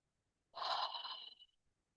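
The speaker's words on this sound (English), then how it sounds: "Deep breath in." One deep, audible breath drawn in during a guided breathwork session, lasting about a second and heard alone in a quiet room.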